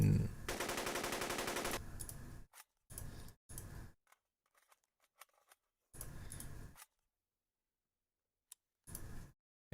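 A Kalashnikov rifle sound effect opens with a rapid, loud burst of automatic fire, followed by several shorter bursts and single cracks separated by stretches of near silence.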